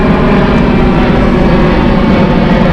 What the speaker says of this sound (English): How many planes are going to interrupt our video?